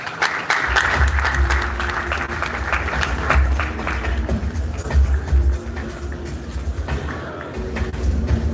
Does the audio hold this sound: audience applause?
yes